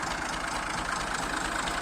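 A 2002 Massey Ferguson MF 240 tractor engine idles steadily and loudly up close, a continuous throbbing rumble with no voices over it.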